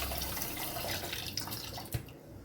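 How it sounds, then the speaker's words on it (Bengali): Water pours into a pot to make sugar syrup for rasbora, a steady splashing stream that ends with a couple of drips. "এবার আমি একটু জল দিচ্ছি"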